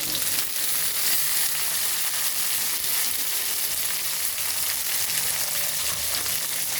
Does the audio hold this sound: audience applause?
no